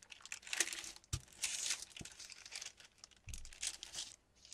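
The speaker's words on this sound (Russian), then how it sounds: "Чтобы вырезать планку переда, я складываю кальку по линии" Tracing paper for a sewing pattern crinkles and rustles as it is folded along a line and cut, in close, crisp bursts with a few sharp snips between them.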